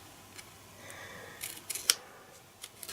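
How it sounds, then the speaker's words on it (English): Scissors snip the corner of a card blank up to a score line while making an interactive card, giving a few short, crisp close cuts in a quiet room with no talking. "cut the opposite corner straight up until this first score line here"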